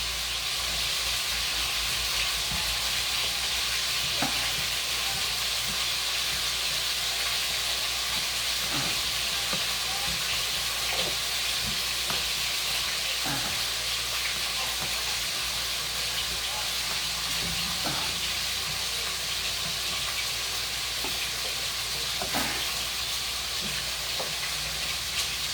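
A pork chop bake mixture is stirred in a pan, producing a continuous hiss and sizzle with faint periodic scraping strokes throughout, all at an even level.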